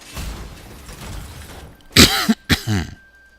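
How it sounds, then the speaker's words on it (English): Two harsh coughs close up, one right after the other, following a stretch of muffled background noise. "Still got a little bit of a cough left over from being sick"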